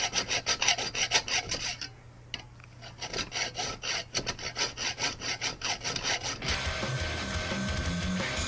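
A hacksaw cuts through the steel canister of a NAPA oil filter for a Cummins turbo diesel, rasping in steady back-and-forth strokes. A brief pause comes partway through, then the rhythmic sawing resumes and gives way to a rougher continuous scraping near the end.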